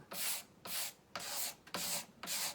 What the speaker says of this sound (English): take a razor knife blade, flex it just a bit, and use it like a scraper